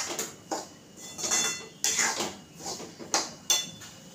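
Semolina (rava) being dry-roasted in a pan for rava ladoo, heard as repeated metal scraping and clinking of a spoon against the pan in irregular strokes, close and moderately loud, with no talk.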